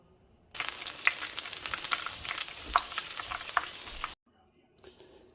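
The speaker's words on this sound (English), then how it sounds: "I got some more to fry" Zucchini flowers fry in hot oil with a loud, dense crackling sizzle that begins abruptly, holds for a few seconds close by, then cuts off, leaving faint stirring noises afterward.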